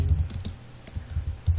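Quick, irregular keystrokes clatter on a computer keyboard as C code is typed, close and distinct, with brief pauses between short bursts.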